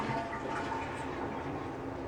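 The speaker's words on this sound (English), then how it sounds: "I'm going to flush the toilet" A household toilet flushing during a repair of a leaky shut-off valve: a steady, loud rush of draining water that fills the whole moment, close by, with no talk.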